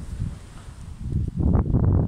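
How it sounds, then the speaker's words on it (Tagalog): Sea and cold wind by the shore make a steady low rumble of wind against the microphone, swelling louder halfway through, with a gentle rush of calm water and no talking. "Oh, sounds ng dagat."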